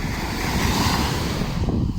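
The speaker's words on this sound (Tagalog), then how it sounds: "Medyo may alon konti ngayon ha." Small sea waves wash and surge around a boat on open water, with steady wind buffeting the microphone and a continuous rushing wash throughout.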